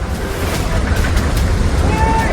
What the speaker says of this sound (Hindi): चमोली के तमक नाले में पहाड़ के ऊपर से सैलाब तेजी से उतर रहा था